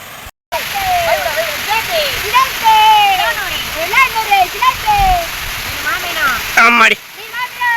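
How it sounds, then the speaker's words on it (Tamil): Rushing river water flows fast and high at night during a fish hunt, a steady watery roar with splashes running beneath near constant excited talk from people close by. "தண்ணி ஓவரா போயிட்டு இருக்கு"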